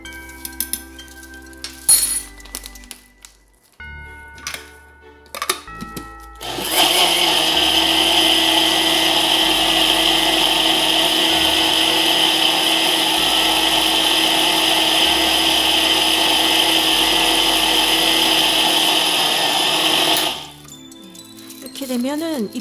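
A blender grinds coarse red chili flakes, running as a loud, steady whirring roar for about thirteen seconds before cutting off abruptly, preceded by clinks and handling noises.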